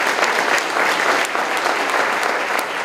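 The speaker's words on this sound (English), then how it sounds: "another round of applause for our Board of Trustees for all of their hard work." Dense, steady audience applause at a school district breakfast program, loud and continuous for a few seconds with no talking over it.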